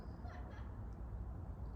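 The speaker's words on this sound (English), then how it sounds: "oh, the geese are coming back." Distant geese honking in a loose flock over steady low background rumble, calls faint and scattered rather than close.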